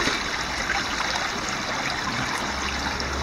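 A shallow stream only about an inch deep rushes over an obstruction, giving a steady close-up gurgling and trickling wash of water with no speech.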